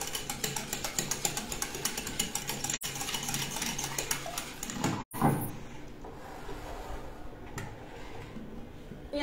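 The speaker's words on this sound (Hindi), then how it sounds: "इसको मैं अच्छे से पहले मिक्स कर लूंगी।" Sugar and other ice cream ingredients being mixed in a pan before the gas is lit, with steady, rhythmic scraping and clinking of a utensil against the pan, close by and continuous, briefly broken by a few clunks.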